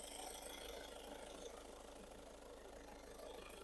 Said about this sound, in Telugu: చాలా సైలెంట్గా ఉంది ఇంజన్ కూడా.